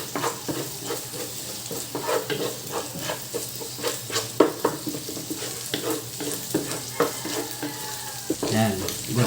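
Ground pork fries with onion and garlic in a pan, crackling and sizzling steadily while a utensil stirs it in irregular scraping bursts, close and fairly loud throughout.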